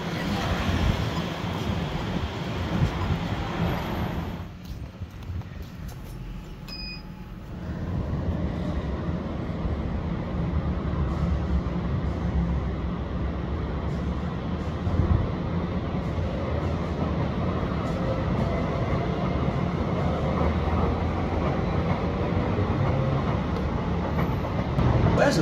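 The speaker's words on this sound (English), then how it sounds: "another R151 is pulling in to Tampines right now" An R151 metro train pulls in to Tampines station, with a steady, loud rolling rumble and broadband roar that briefly dips before swelling again and continuing throughout.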